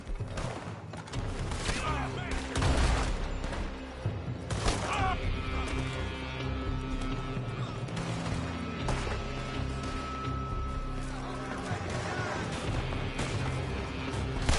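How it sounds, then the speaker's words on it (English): Dense gunfire from a Red Dead Redemption 2 shootout, with rapid shots, cracks and crashes layered over a steady battle din that runs loud and continuous throughout. "They're shooting from that building!"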